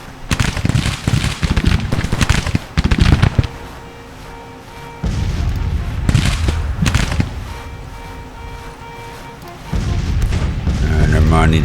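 Volleys of musket and artillery fire from Civil War troops in the strategy game Grand Tactician, loud bursts of booms and crackling shots in clusters with lulls between, some talk over the battle.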